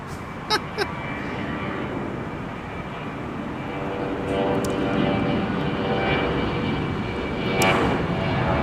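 A Virgin Atlantic Airbus A350 charter flight at Minneapolis–St. Paul airport gives a loud, continuous jet-engine roar that builds toward the second half, with a few sharp clicks and brief bursts standing out above it.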